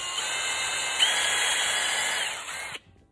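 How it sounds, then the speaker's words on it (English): A small drill whines steadily while boring a hole into a pine cone, a near, continuous high-pitched buzz that holds for under three seconds and then stops abruptly. "I'm gonna drill a little hole in them, just like this, little hand drill"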